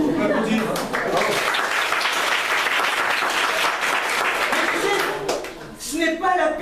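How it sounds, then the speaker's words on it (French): Audience applauding at an outdoor theatre show at the Avignon festival, a dense, sustained burst of clapping from a crowd that tapers near the end as a voice comes in. "On peut applaudir."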